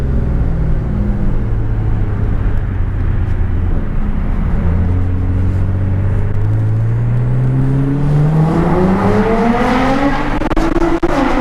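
Lamborghini Centenario engine revving in a tunnel, a loud echoing roar that holds steady and then climbs sharply in pitch as the car accelerates, reverberating off the tunnel walls.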